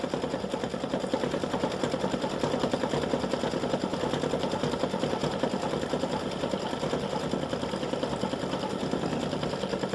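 An embroidery machine stitches the fill of a flower petal in a flip flop applique design, a steady rapid needle chatter running continuously at moderate level with no talking.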